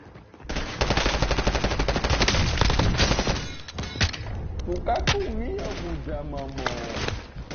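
Rapid automatic gunfire from Call of Duty Modern Warfare, dense bursts of loud shots filling most of the clip, with a voice talking over the later part.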